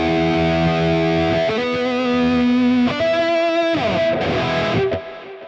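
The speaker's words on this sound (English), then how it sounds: "Airy reverbs." An electric guitar played through a Quad Cortex Mini with an airy reverb effect rings out in sustained chords that shift pitch several times, loud and distorted, with long washy tails and no voices.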